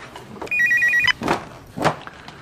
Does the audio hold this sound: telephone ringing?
yes